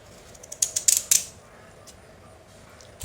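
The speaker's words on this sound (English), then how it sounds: "And then cut the carrot." A carrot is cut with a quick series of four or five crisp, close snipping crunches in about a second, followed by quiet room tone.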